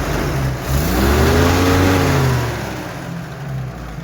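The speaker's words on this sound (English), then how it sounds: "That's a hammering lifter and or some lower end noise." Car engine idles and revs with a rhythmic hammering lifter or lower-end knock beneath the running note, heard close and steady, rising briefly then easing back.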